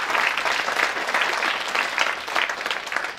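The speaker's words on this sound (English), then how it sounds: "So a big round of applause for our esteemed parents." An audience in a school mock parliament hall applauds, dense even clapping that stays loud and steady throughout, with a faint murmur of voices underneath.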